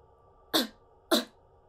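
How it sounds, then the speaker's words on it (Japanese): Two short, sharp coughs, evenly spaced about half a second apart, close and clear against a quiet background. "誰かが咳をしてるみたいな、そんな音が聞こえたんです"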